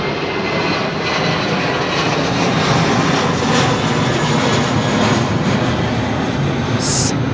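Rolls-Royce Trent XWB jet engines with carbon fan blades on an aircraft at London Heathrow, a loud, continuous, deep clattery roar that holds steady throughout.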